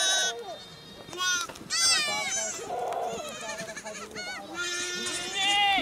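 Sheep bleat in a temporary fold in a Nepali forest, home to about six hundred sheep, with many overlapping calls near and far, some wavering and drawn out, and voices talking now and then beneath the flock.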